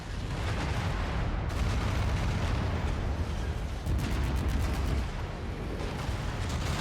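Incoming missile explosion in the video game Merc Life, heard as a loud, continuous roaring blast, with sharper bursts breaking through partway in and again near the middle.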